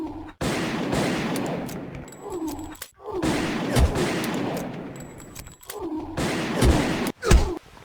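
Shotgun blasts in a video game, loud repeated booming shots with brief gaps between bursts and sharp thuds near the end, dominating the sound.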